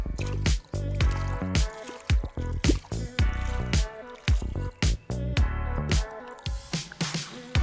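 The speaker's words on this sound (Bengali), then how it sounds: "তো আমি হাতটা ধুয়ে নিলাম" Water splashes and drips close by as flour-coated hands are rinsed at home, in a quick series of short splashy bursts separated by brief pauses.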